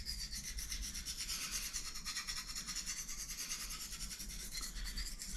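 A kitchen knife blade is sharpened on an oil stone with steady, close rasping strokes that repeat in a quick, even rhythm, with no talking.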